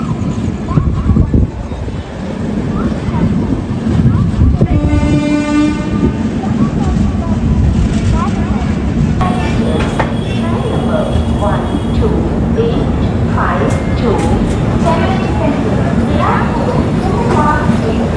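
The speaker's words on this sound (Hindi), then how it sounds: "भाई सामने एक और ट्रेन कृष्णा रिवर के ऊपर से होकर जाने वाली है" Train hauled by a WAP-7 electric locomotive crossing the Krishna river bridge: a loud, steady rumble and rail clatter throughout, with a horn blast near the start and faint voices underneath.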